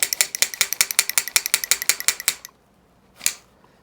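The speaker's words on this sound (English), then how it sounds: "You push this button, and the blade simply releases, just like that." Folding knife with a push-button blade release, a rapid run of sharp mechanical clicks like a ratchet lasting a couple of seconds, then a brief pause and one last click, close and clear.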